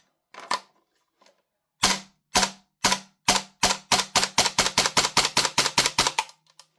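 A WellPro PPK-20 gas blowback airsoft SMG fires a couple of single shots, then a rapid run of about a dozen sharp, punchy cracks with mechanical clacks, loud and close, with no talk.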